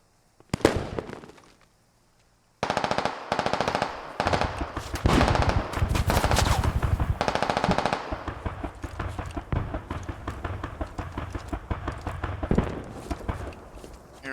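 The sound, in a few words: gunfire in the video game Squad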